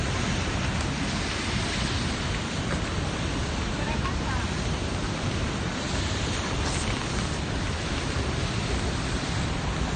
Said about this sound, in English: See, raining everywhere.